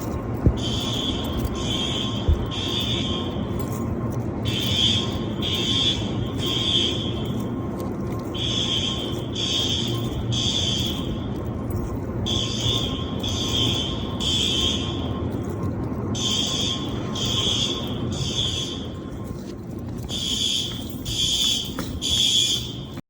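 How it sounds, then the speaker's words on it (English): A fire alarm, set off by a burst fire sprinkler pipe, sounds repeatedly in rhythmic groups of shrill electronic tones, separated by short pauses, over a steady background hum. "No, this isn't a trouble. That's full alarm."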